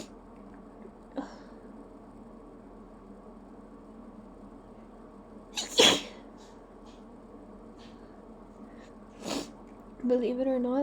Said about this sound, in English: this is me trying not to sneeze